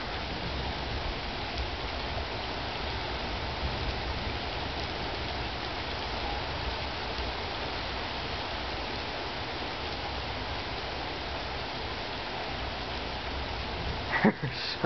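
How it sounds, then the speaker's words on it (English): Steady rain hisses evenly during a lightning storm, a constant wash of drops with no clear thunder, and a brief clatter close by right at the end. "And it's raining."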